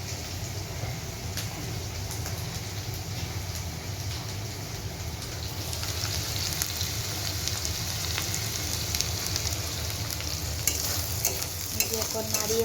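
Kangla fish curry is stirred in a frying pan, with a steady broadband sizzle of frying and scraping stirring strokes running throughout, growing slightly louder toward the end, with no talk.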